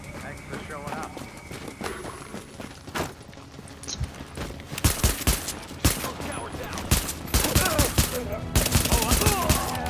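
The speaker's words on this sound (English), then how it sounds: "Some nice shooting there." Rapid gunfire bursts and single shots from The Division crackle in uneven clusters, growing denser and louder toward the end, with a player talking over much of it.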